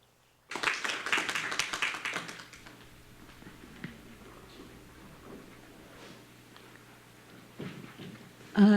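An audience at a human rights conference applauds the session moderator in a short, fairly faint burst that fades into quiet room noise and scattered taps.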